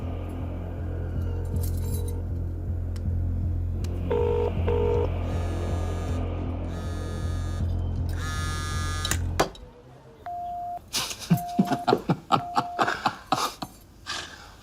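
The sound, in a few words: telephone being dialed on speakerphone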